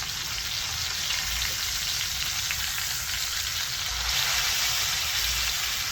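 Steak sizzles steadily in a pan of beef tallow, butter, garlic and rosemary, a loud, continuous close-up frying hiss with no talk over it.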